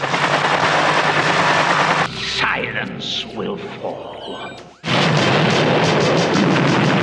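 Rapid bursts of film gunfire crackle loudly at the start, then drop out as a voice speaks over quieter movie sounds, before the heavy firing resumes.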